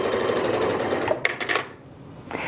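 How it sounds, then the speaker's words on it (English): A Janome MC8200 sewing and quilting machine stitches fabric in a quiet, steady whir that breaks into a few short mechanical clicks and then pauses. "We're going to start stitching."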